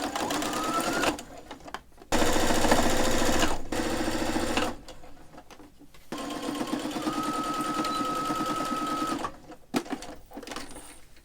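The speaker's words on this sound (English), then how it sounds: "Now a whole lot of straps to sew." A sewing machine stitches straps for a crossbody bag made from curtain fabric. Its buzzing motor runs in several loud bursts of a few seconds each, separated by short pauses.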